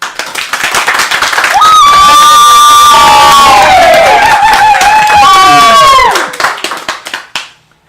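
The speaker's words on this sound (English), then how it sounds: "And clap, people." A loud, close crowd claps, cheers and whoops continuously, with children's shrieks and a long sung or shouted tone over the noise. It fades out quickly at the end.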